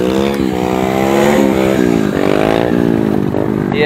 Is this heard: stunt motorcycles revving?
yes